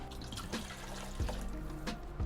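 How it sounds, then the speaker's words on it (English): Water pours over chickpeas in a cooking pot, a steady close splashing and trickling stream with a few heavier gurgles and drips. "now I'm gonna add my water. You wanna make sure you cover your beans"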